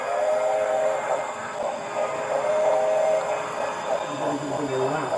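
A model railroad train runs with a steady, continuous rolling hum and faint whistle-like tones, moderately loud and unbroken throughout.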